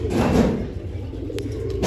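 Pigeons coo softly in low, throaty tones close to a net they have been placed inside, with a couple of brief clattering knocks breaking in.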